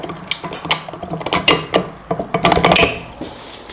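Bolts being tightened on the front shock absorber of a Vespa P200 E scooter: a run of close, sharp metallic ratcheting clicks and scrapes in irregular bursts, with a brief higher squeak near the end.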